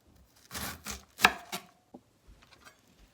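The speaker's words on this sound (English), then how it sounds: "I'm chopping up my regular white cabbage now" Knife chopping white cabbage for coleslaw: a quick series of close, crisp cuts against a board, then a few softer taps as the chopping trails off, with no talk.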